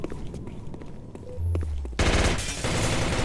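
Gunfire crackles through a competitive shooter video game match. Scattered shots give way to a dense, loud burst of rapid automatic fire, with sustained fire continuing behind it. No one talks.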